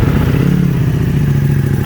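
A fully warmed-up tuned motorcycle engine idles steadily with a deep, even rumble, loud and close, holding constant throughout.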